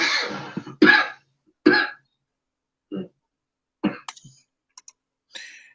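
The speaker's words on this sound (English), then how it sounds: "You don't want to blow out a lung coughing like crazy." A person coughing, several short, sharp coughs in irregular bursts close to the microphone, separated by silence, with a few faint clicks toward the end.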